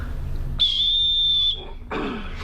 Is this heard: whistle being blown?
yes